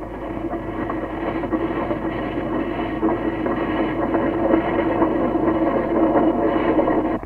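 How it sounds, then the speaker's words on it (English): A narrow-gauge steam train pulls out of Douglas Station on the Isle of Man, a steady rumbling rolling drone of wheels and engine that holds even and continuous throughout, with no voices. "the quaint, narrow-gauge train pulls out of Douglas Station"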